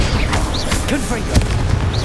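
A Confringo spell blast bursts in Hogwarts Legacy combat, a short booming pop amid busy fight noise and whooshing spell effects, with a voice in the mix.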